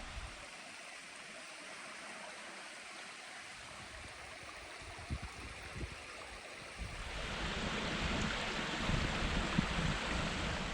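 A river flows through a gorge in Karijini National Park, a soft steady wash of moving water that grows louder and fuller halfway through, with a few small knocks among it.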